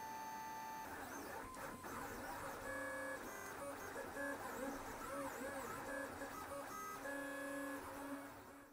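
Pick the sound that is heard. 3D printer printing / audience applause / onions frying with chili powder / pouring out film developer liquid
3D printer printing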